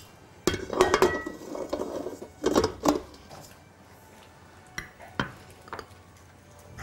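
Butter being beaten alone at the start of frosting for a chocolate ginger cake, heard as a few bursts of clinking and stirring against a bowl, then quieter scattered taps.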